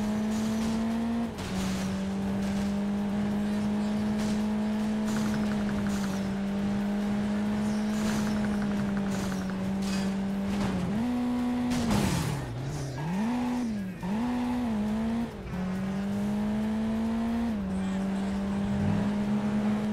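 An engine hums steadily in Driver: Parallel Lines, a racing and driving video game, holding a sustained drone that dips and wavers briefly partway through as the car shifts or swerves, with faint game effects around it.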